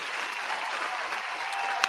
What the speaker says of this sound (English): Let's give a round of applause to myself and everyone that's watching.